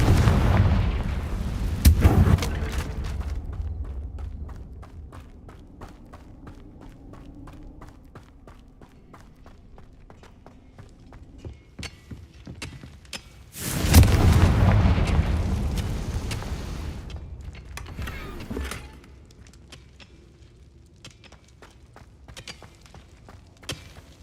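In Hogwarts Legacy, Confringo spell explosions go off in two loud, deep booms about twelve seconds apart, each decaying into a rumbling tail over quieter crackling and footsteps.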